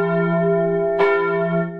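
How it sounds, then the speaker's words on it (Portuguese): A church bell rings with a steady, sustained tone and strong overtones, sounding loud and close, with a fresh strike near the middle that renews the ringing. "Quando escutava o sino da igreja tocar"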